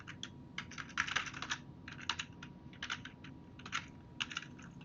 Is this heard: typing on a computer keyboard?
yes